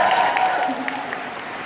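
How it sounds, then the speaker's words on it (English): An audience at a home-party business conference claps for a hostess, heard as a short, steady burst of crowd applause with some voices mixed in. "Give her a round of applause."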